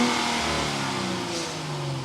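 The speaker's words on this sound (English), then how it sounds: "start up this twin turbo E-Supercharged so you can hear that exhaust note." A 2025 Genesis GV80 Coupe's twin-turbo e-supercharged engine revs, its exhaust rising to a loud, steady roar and then settling lower, heard alone over a short stretch.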